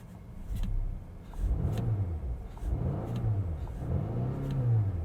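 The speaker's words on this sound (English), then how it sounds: "Engine seems to be operating as normal." Volvo V60 T8 plug-in hybrid engine running with the fuel tank near empty, heard from inside the car as a low drone that swells and settles in repeated revving waves, no talking.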